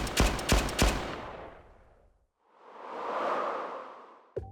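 Three sharp gunshots crack in quick succession, each trailing into a long fading echo, followed by a rising and falling whooshing rush of air and a sudden sharp click at the end, with no voices.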